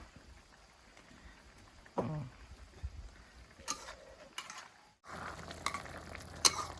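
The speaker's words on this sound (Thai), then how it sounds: "ผัดให้น้ำง่วนๆ เหนียวๆ แบบนี้นะ" Food stir-fried in a pan with light soy sauce and oyster sauce, with soft sizzling and intermittent scraping of a utensil, quiet and close, louder sizzle bursts near the end.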